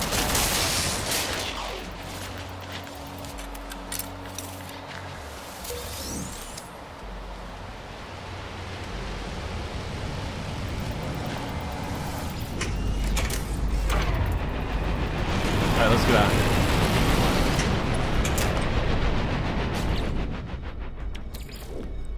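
Hostile attack ships in No Man's Sky fire on the player in a dense, sustained barrage of bursts and rumbling blasts that swells louder toward the end.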